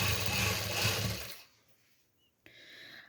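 A sewing machine stitches velvet fabric in short runs, a close, steady mechanical whirr for over a second that stops, falls nearly silent, then starts again.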